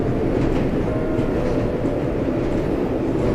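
Subway train rolling steadily through a tunnel in a New York 2 line operating simulation, a continuous loud rumble of wheels and motors with faint rhythmic rail clatter throughout.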